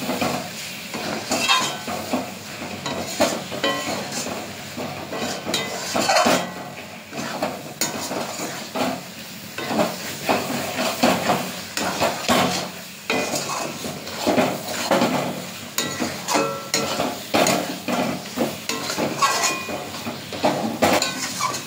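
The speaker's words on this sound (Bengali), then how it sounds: "আচ্ছা এবার মাংসটা দিয়ে দেবো, দিয়ে কষাবো।" Chicken pieces are added to a hot pan and sautéed, with a continuous loud sizzle and frequent scraping and clinking of a utensil against the cookware, without speech.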